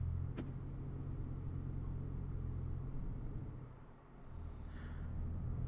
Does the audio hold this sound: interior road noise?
yes